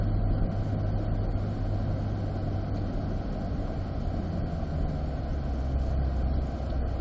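A 2021 Corvette driving parade laps at Road Atlanta, heard from inside the car: a steady, loud low engine drone with constant road and wind noise, unbroken throughout and without talk.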